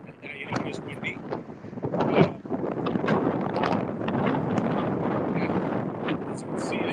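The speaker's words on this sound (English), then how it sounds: "and you know, it is windy." Gusty wind buffets the microphone on an outdoor walk through Key West, a steady low rumble with a stronger blast around the two-second mark, continuing without pause.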